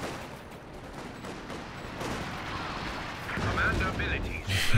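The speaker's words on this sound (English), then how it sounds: "So your infantry support gun knows exactly where to barrage." Artillery barrage from an infantry support gun in the video game Company of Heroes 2: repeated booming shell impacts and gunfire rumble through a busy battle mix, swelling louder toward the end, with a commentator talking over it.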